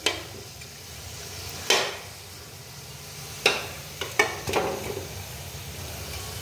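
Sweet dough balls for red-potato gulab jamun fry in hot oil in an aluminium wok while being stirred: a steady close sizzle broken by a few sharp scraping strokes, with no voices.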